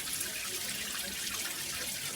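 Water spraying and leaking steadily from a chrome Moen Ignite hand held shower head, a continuous hissing splash close by with no talking.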